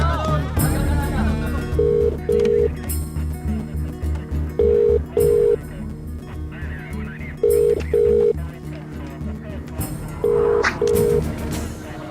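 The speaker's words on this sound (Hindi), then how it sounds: "फोन करना है। कर लो।" Telephone tones sound in repeated paired beeps every few seconds, like a call being placed and ringing, layered over a busy background score.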